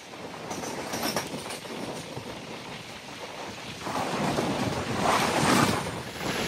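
A Gautami passenger train running from Lingampalli to Kakinada Town rolls past on the rails, a steady broad rumble and rushing noise that swells louder toward the end, with no talking.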